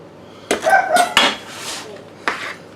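Spareribs being mixed with a whole jalapeno in a bowl bring a few loud, close clanks and scrapes of a utensil against the dish, separated by short pauses.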